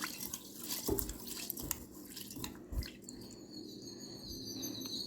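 Water sloshing and dripping as rice is rinsed by hand in a pot, soft splashes and trickles, close up with no talking.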